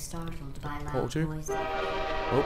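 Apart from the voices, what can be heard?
train horn in the video game Portal 2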